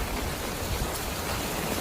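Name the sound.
heavy rain falling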